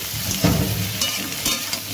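Eggplant pieces and spices stirred in a hot pan, with a steady close frying sizzle and a few scraping stirs of a spoon against the pan, no talking.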